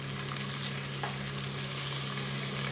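Tomato, onion, green chili and curry leaves sauté in a pan for a breadfruit masala curry, producing a soft, even sizzle over a steady low hum, with one brief stirring scrape and no speech.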